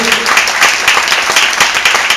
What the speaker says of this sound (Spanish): Le damos un fuertísimo aplauso